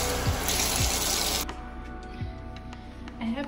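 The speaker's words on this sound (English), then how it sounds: "And just to just rinse with warm water" Warm tap water runs steadily for a rinse during an at-home spa routine, a close, full splashing rush that cuts off after about a second and a half, leaving a quieter room with a few light knocks.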